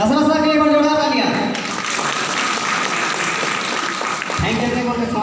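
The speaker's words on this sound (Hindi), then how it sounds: "दशरथ सर के लिए एक बार जोरदार तालियां।" Loud, sustained crowd clapping at a Safe Shop business gathering in India, rising right after someone speaking into a microphone and filling the room before his voice returns at the end.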